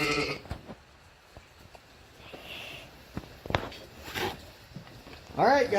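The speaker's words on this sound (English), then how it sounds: "These sheep are hungry," Hungry sheep bleat at feeding time on a rainy farm morning, several loud close calls scattered among clicks, shuffling and rustling, with one bleat rising clearly at the end.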